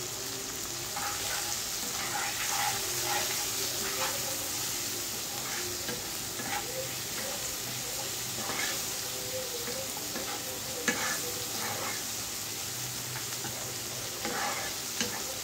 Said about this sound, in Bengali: হলুদ লবণ দিয়ে ভালোভাবে এটাকে পেস্ট চিংড়ি মাছ ভেজে নিতে হবে।